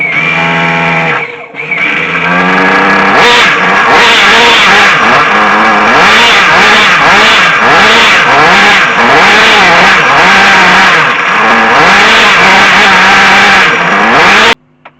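Flying Point Probe VXI nitro RC engine, freshly rebuilt and being tuned, screams loudly and close up in repeated rising and falling revs for about twelve seconds before cutting off abruptly.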